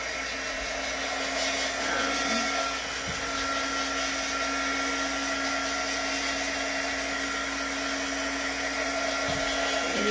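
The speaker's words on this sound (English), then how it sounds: "We can get the heat gun." A heat gun blows with a continuous, even motor hum and rushing air, steady throughout with no talking.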